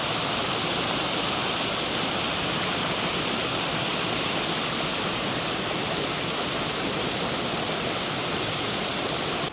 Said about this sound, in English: the overflow, which is the original one from the Robinette's arm, is in full flow